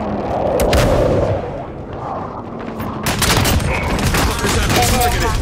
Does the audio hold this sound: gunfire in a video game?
yes